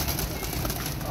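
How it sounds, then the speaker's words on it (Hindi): A large pigeon arrives at a pigeon club loft amid a dense, noisy wash of sound, with faint cooing and flutter buried in the brief din. "ये देखिए कबूतर बड़ा आ रहा है।"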